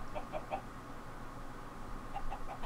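Chickens clucking in a horror video game, two short bursts of soft clucks at the start and end over a steady low background hum, fairly quiet and without talk.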